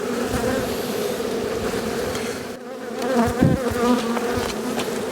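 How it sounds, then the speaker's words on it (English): Honey bees buzzing around a hive in an Australian bee yard, a dense, continuous hum close by with individual bees droning past. "A few bees on the outside here."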